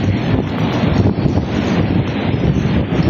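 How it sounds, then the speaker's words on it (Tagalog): Strong seaside wind roars steadily across an open shore during a storm with rain, buffeting the microphone in a loud, continuous rush over the sound of surf. "Ang lakas ng hangin"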